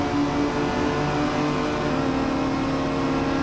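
Honda S2000 race car accelerating hard in third gear on a track, a sustained steady engine drone with a rising tone, heard from inside, constant and loud.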